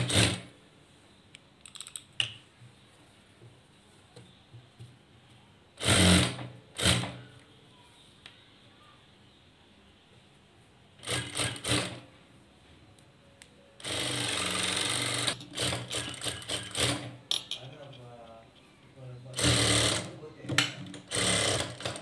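An electric sewing machine stitches the lining of a blouse in several runs, some short and some sustained, with a loud whirring hum and pauses between them, while someone speaks through the quieter gaps.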